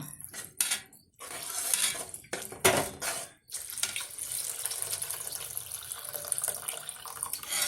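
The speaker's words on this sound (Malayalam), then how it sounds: "പുളിവെള്ളം ഒഴിച്ചു കൊടുക്കാം." Tamarind water is poured into a simmering curry in a kitchen, a steady splashing pour with brief clinks of vessels, close and fairly loud, with no voices.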